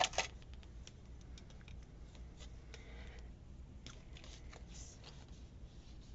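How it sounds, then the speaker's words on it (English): Small scissors snip faintly and repeatedly at paper map pieces, making light irregular clicks and crisp cuts at close range with no talking. "I think I will use my little scissors"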